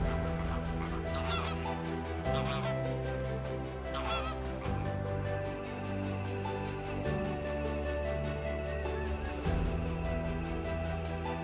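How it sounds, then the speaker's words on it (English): Flamingos at a lake in Kenya honk in a dense, continuous goose-like chorus, with many overlapping nasal calls from a large flock and a few sharper honks standing out over the steady din. "These flamingos are the lake's living conscience."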